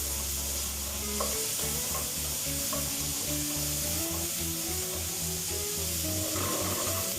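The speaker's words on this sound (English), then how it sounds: "we're going to cook some onions and some mushrooms to make the base and the flavourings of our sauce" Onions and mushrooms cook in a hot pan for a pie sauce, giving a continuous dense sizzle with occasional rubbing stir sounds, close and even, while a low droning hum runs underneath; no one speaks.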